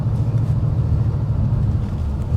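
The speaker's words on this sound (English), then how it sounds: "that V8 sounds good" A 2020 Ford Mustang with a V8 and manual gearbox rumbles at close range, its deep, throbbing burble loud and steady throughout with no voices over it.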